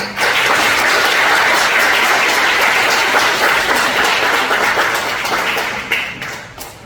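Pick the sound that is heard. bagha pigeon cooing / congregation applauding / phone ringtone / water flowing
congregation applauding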